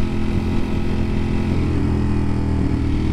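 A 2024 Ducati Panigale V4S superbike being ridden, its engine holding a steady, loud, close drone with dense low rumble and no pause across the stretch.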